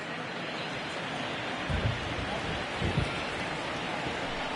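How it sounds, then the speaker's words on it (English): Heavy rain pours steadily in a baseball video game: a dense, even hiss with no voices, and a couple of low thumps partway through. "Really starting to pour now, and the forecast is not showing any signs of a break in the weather."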